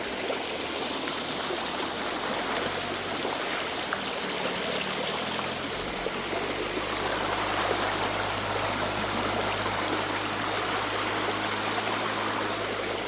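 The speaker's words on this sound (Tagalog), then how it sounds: "At buhay na nga yung sapa na to." A creek flowing strongly after Typhoon Carina in Gabaldon, a continuous dense rush of running water that stays steady and close throughout, with no voices.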